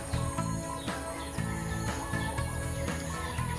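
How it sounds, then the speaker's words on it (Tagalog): Birds, including the tandok, a dove relative, call outdoors around a vacation house in Mindanao. Their repeated chirps and calls ring over a steady insect-like buzz, moderately faint and with no talking. "yung aking background ng video ko is talagang ang gaganda pakinggan ng mga sound of music ng mga tunog ng ibon"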